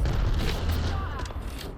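Enemy squad gunfire in the video game Apex Legends, a dense run of booming shots and rumbling low-end blasts that carries on steadily through the whole moment, with players talking over it.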